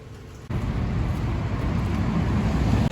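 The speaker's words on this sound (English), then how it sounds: "I apologize for the traffic noise. It is a noisy, busy, trafficy afternoon" Busy afternoon street traffic rumbles steadily and close by, a continuous low roar of passing vehicles without any talking.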